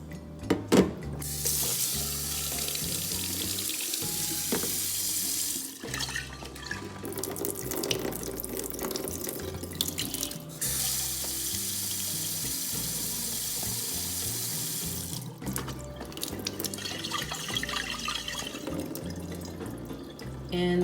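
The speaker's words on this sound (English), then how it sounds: "now we're going to rinse these off twice" Water pours from a jar while seed sprouts are rinsed: long, steady splashing runs that pause briefly twice, close and alone.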